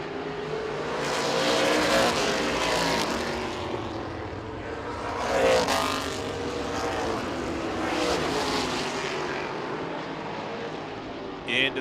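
Street stock race cars roar around an oval speedway late in a race, engines droning loudly and continuously with swelling passes as the pack comes by, under a faint announcer voice.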